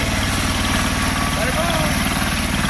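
Diesel engine idling nearby with a steady low, even throb that holds without a break, with faint voices in the background.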